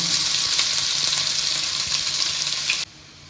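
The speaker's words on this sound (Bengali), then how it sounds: "তেলটা আমার গরম হয়ে গেছে। এবার আমি পেঁয়াজ কুচনোটা দিয়ে দিলাম।" Chopped onion hits hot oil in a pan for a bread cutlet, giving a loud, steady frying sizzle close by that cuts off abruptly near the end.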